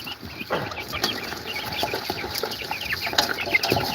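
Several chickens cluck and murmur close by in a busy, overlapping chorus, with occasional sharper calls over a low background.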